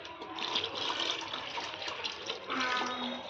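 Water pours steadily into ground masala for a cashew paneer curry, a continuous close splashing stream lasting a few seconds with a brief change in tone near the end.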